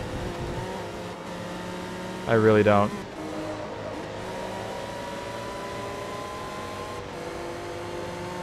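Toyota Supra race car engines in the Forza Motorsport 2 video game, giving a steady droning hum with a sudden loud warbling rev burst, while someone talks over it.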